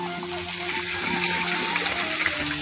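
Water pours in a continuous, even gush into a freshly rebuilt fish pond with stepped edges, a steady near splashing flow with no pauses and no speech.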